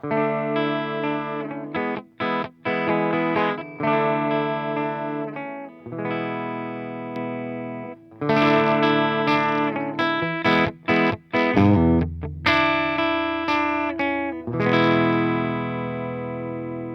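An electric guitar plays through a CTC Heatseeker overdrive pedal with the boost off, a crunchy Marshall-style tone in choppy riffs and sustained chords with short gaps, loud and with no talking.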